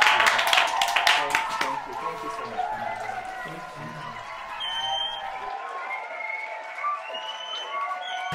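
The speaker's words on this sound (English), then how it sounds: "Can we please have a round of applause for Machine Dazzle?" Studio audience applause and cheering for a fashion guest, a dense burst of clapping strongest in the first two seconds, then fading into a softer crowd murmur with voices underneath.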